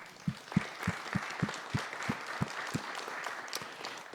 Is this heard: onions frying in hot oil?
no